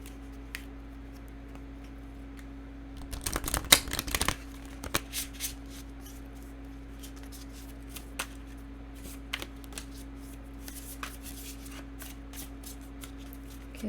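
Tarot cards shuffled by hand in a brief, crisp riffling burst near the start, followed by sparse soft taps and flicks over a quiet, steady background hum.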